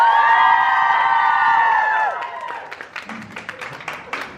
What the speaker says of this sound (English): give yourself one massive round of applause again